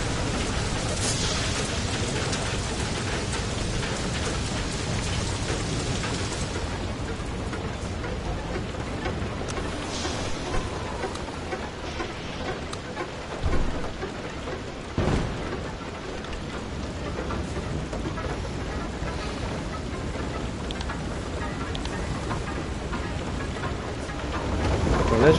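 Stormy weather in the video game Far: Lone Sails, with steady rain hiss and low rumbling thunder running throughout, a couple of sharper cracks in the middle and a brief swell near the end.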